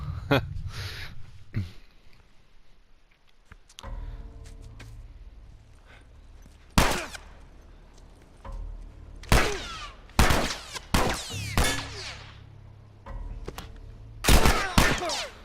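Gunfire in The Last of Us Remastered on Grounded difficulty: sharp, loud single shots and quick bursts spread irregularly across the stretch, with quieter rumbling ambience between them.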